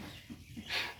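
Meat chickens out on grass pasture cluck softly over a low outdoor background, a few faint calls with no voices.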